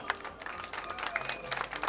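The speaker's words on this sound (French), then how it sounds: "Applaudissez très fort s'il vous plaît." Fashion show audience applauding a designer's collection at Saint Louis Fashion Week, a crowd clapping with sharp individual claps standing out in a busy, near wash.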